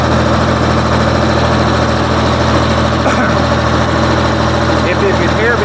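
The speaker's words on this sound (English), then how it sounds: "If you can hear me over this tractor" A tractor engine runs steadily out in a field during bean spraying, its loud, constant low rumble and vibration filling the whole stretch with no breaks.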